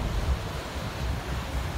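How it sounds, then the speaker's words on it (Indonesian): Ocean surf rolling in at Kuta Beach, Bali, a popular surfing spot with tiered waves, makes a steady, loud wash of broadband noise with wind rumble throughout, and no voices. "Di kawasan Pantai Kuta ini terlihat ombaknya bertingkat"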